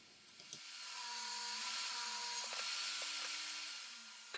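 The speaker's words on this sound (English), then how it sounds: "Then I take it on the table saw and run it through the table saw, flipping it over to be able to get a piece cut wide enough for each of the 4 legs." Table saw ripping a wooden leg blank for a table build, a loud, steady high whine of the blade through the wood that swells and fades over a few seconds, close up and with no talk.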